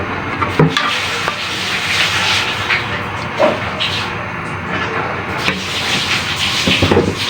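Steady bubbling hiss of water at a rolling boil, close up, with occasional clinks and knocks of a pot.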